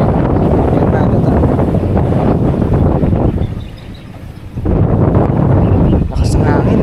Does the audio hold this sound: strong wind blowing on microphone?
yes